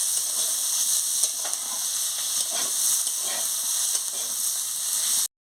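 Onion frying in a pan with potato and eggplant, a continuous hissing sizzle with faint soft stirring, cutting off abruptly at the end.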